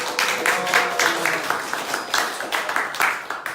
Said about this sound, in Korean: 최규하 작가님 큰 박수로 모시겠습니다